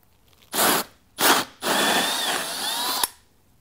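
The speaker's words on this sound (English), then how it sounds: "We're gonna set our Gen 2 hammer drill on speed 2." A Gen 2 hammer drill on speed 2 runs in two short bursts, then drills steadily for about a second and a half before stopping, close and loud with no talk.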